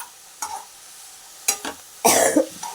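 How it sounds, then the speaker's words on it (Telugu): Fenugreek leaves hitting hot oil in a pan, giving short sizzling bursts and stirring scrapes, close and loud, with quiet gaps between. "ఒక స్పూను ఆయిల్ వేసుకొని మెంతాకు కూడా అట్లాగే సేమ్ మొత్తం ఉడికించుకుందామండి"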